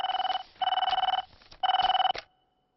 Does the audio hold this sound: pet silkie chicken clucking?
no